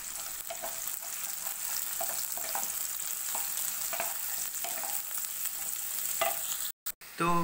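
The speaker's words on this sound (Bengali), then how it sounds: "এখন পেঁয়াজগুলোকে খুব ভালো করে ভেজে নেব।" Chopped onions fry in a pan for a masoor dal tadka, a soft, continuous sizzle broken by repeated scraping strokes of a stirring spoon, with a few sharp knocks near the end.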